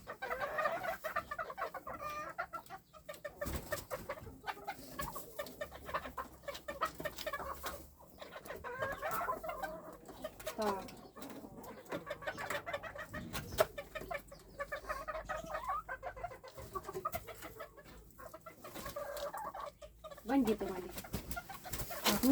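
Bantam chickens and roosters cluck and call in a busy coop, steady chatter of fowl with some cooing pigeons mixed in, while someone talks throughout.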